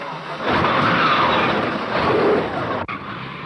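A loud car engine roars steadily as it speeds away, broadband and sustained, with a brief dropout near the end.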